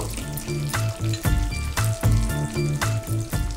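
Peanuts frying in a pan, a close steady sizzle overlaid with rhythmic tonal scraping and clinking as they are tossed and stirred.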